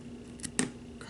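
Scissors snip off the end of craft material while making heart pendants, giving a few short, crisp clicks close by in a quiet room, with one sharper cut standing out.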